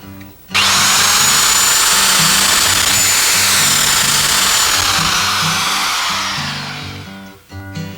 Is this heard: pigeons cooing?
no